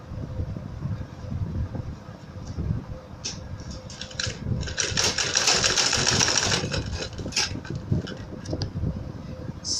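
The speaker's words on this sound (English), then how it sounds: "Then I'll place it on top of the curtain and stitch in place along the dotted line" Domestic sewing machine stitching heading tape along the top of a curtain for pinch pleats, a steady close mechanical whir with a brighter, busier burst of stitching in the middle and soft handling noise around it.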